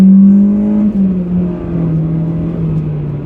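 A naturally aspirated Honda EK coupe engine runs near and loud with a steady whiny tone, its pitch sagging slightly as the revs ease off over a few seconds.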